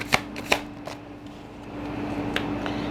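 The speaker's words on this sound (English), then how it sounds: "Let me pull some cards." Tarot cards are shuffled and pulled, giving a couple of crisp riffling snaps followed by softer card flicks over quiet room tone, close by and without talking.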